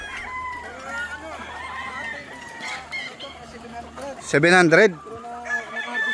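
Gamefowl roosters crow repeatedly at a gamefarm range area, several birds overlapping near and far with one loud close crow, while clucking continues and someone talks over them.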